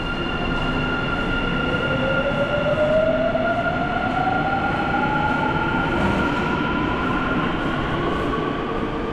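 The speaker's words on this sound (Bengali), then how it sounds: "মেট্রো ছেড়ে দিল" A South Korean metro train pulls out of an underground station, a loud continuous rumble with a rising whine as it accelerates away, steady throughout.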